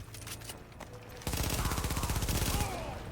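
Submachine gun fire in the video game The Division, several rapid bursts of shots rattling in a fast chopped rhythm after a brief quieter stretch, close and fairly loud.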